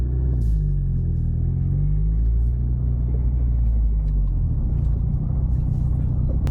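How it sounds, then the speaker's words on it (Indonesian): A Subaru hatchback with a full body kit drives with its engine at a deep, steady rumble, heard from inside as a continuous low drone with a slight pitch sweep partway through and no talk. "Nah khas ada suara rumble-nya nih."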